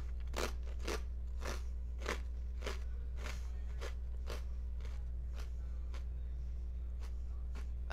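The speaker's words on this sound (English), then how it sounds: "Can you hear me eating it?" Someone eats crunchy food close to the microphone, a steady run of sharp, evenly spaced crunching bites over a low background hum, with no speech.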